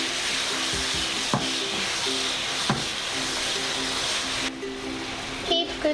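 Tofu in teriyaki seasoning of soy sauce, mirin and sugar fries over medium-low heat, sizzling loudly and steadily while occasional knocks and clatters come from flipping in the pan.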